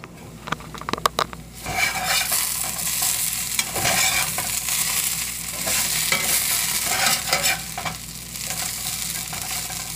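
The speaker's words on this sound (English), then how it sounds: "Onions are frying." Onions fry in a pan for hash browns with a continuous close sizzle. A few sharp clatters and scrapes of stirring come near the start, and a spatter pops now and then over the hiss.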